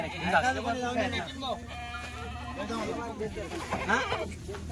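Several goats bleat repeatedly close by, their wavering cries overlapping amid a busy livestock setting.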